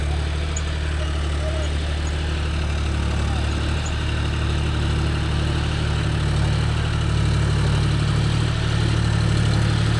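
A John Deere 5050D tractor engine drones steadily and loudly in wet, muddy farmland while hitched to a 9-point cultivator, a constant low rumble with no pauses.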